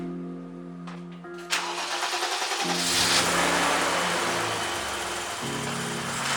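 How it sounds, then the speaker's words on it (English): An old BMW with freshly adjusted valves cranks briefly, catches and roars to life up close, then runs loud and rough with a slight rise and fall in revs as it settles toward idle. "Now it's time to see how well the car runs with the valves adjusted."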